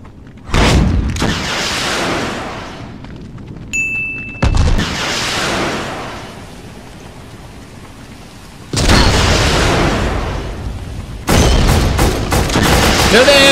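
Gunfire bursts from the PS2 shooter game Black, loud rattling volleys that start and stop abruptly in several separate bursts with quieter ambience between them.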